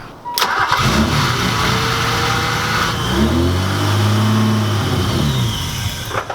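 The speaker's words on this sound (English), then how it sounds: "it'll start up normal and then just completely die out." An Infiniti G35 engine with a faulty idle air control valve cranks and catches, runs roughly for a few seconds with a wavering idle, then sags and cuts out near the end.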